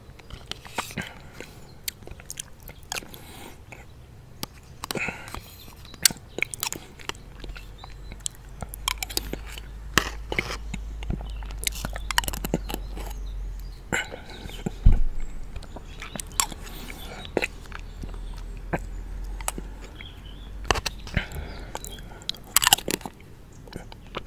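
Someone eats Almhof strawberry yoghurt with strawberry pieces close to the mic, making soft wet mouth clicks, smacks and chewing sounds in a scattered rhythm over quiet background hum.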